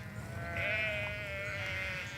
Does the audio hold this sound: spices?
no